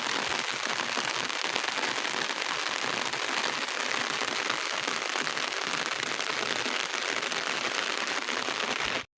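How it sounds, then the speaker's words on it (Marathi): Heavy rain pours down steadily, a dense, loud hiss of drops pattering on surfaces without pause. "पाऊस तर वाढतच आहे"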